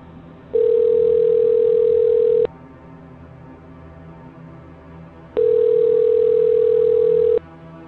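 Two long steady electronic tones from a cell phone call, each lasting about two seconds with a pause between, loud and clear against a quiet background with no talking.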